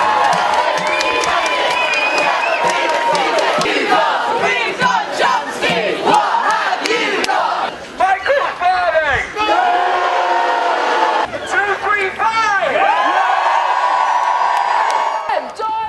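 Student protesters at an anti-privatisation occupation at the University of Sussex shout, whoop and cheer together in a loud, dense crowd roar. Overlapping chanted cries rise and fall, with a brief dip partway through.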